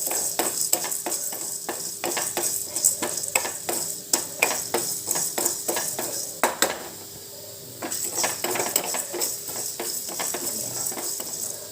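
Black peppercorns and chana dal dry-roast in a pan, the spoon scraping and rattling the seeds in quick repeated strokes, close and fairly loud, with a short pause midway.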